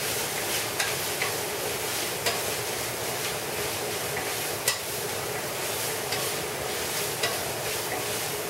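Purslane and green onions sizzle steadily in a frying pan, with a continuous close hiss of frying and occasional clicks and scrapes of a utensil stirring and tossing them.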